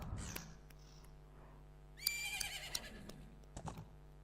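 Epona, the horse in the video game The Legend of Zelda: Majora's Mask, lets out a sharp, bright whinny partway through, set against quiet game ambience and a few soft clicks.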